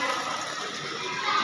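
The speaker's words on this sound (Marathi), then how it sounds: "गाईच्या तोंडातून पाणी येतं मित्रांनो" Holy water pours steadily from a cow-mouth spout at the ancient Mahabaleshwar temple, a constant close, full-bodied rush with no break across the short stretch.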